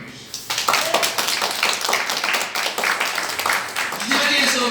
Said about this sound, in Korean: 박수 한번 크게 보내주세요.